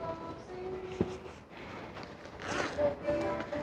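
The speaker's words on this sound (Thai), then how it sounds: "เรามาเริ่มตั้งแต่ช่องด้านหน้านะคะ ก็จะมีซิปแบบนี้" Zipper on the front pocket of a wallet, slid open in a few quick close-up rasps against a quiet background.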